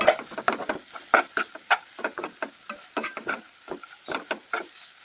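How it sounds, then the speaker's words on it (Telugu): Carrots fry in oil in a pan while being stirred, giving soft sizzling under a busy patter of scraping and tapping strokes, close and fairly quiet, for about five seconds. "ఆయిల్లో బాగా మగ్గాలి క్యారెట్"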